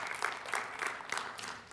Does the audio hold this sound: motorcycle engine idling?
no